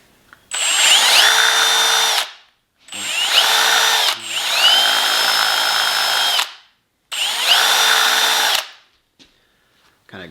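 A power drill whines loudly in three long bursts, then a fourth shorter one, the bit's edge grinding out plastic of a Black Series Boba Fett helmet, with brief pauses between and a steady grinding tone throughout.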